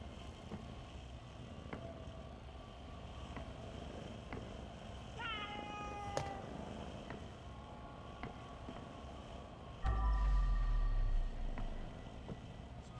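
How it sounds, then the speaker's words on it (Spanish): Cat meowing inside the video game Crime Scene Cleaner, a couple of short, faint tonal cries standing out over a steady game ambience hum, with a louder low thump near the end. "¿Qué es el gato?"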